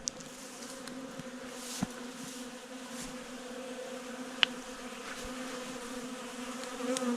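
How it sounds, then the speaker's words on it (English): Steady droning buzz of many honey bees around a hive being robbed, with fighting at the entrance, a continuous hum with a few sharp clicks and close passes of individual bees, no talking. "I think my bees are being robbed."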